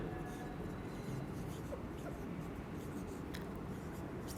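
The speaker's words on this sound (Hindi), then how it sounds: "अभी दोबारा ड्रॉ कर देता हूँ" Chalk or marker scratches across a board as a diagram is drawn during a biology lecture, soft and intermittent scraping under steady room hum, with no clear speech.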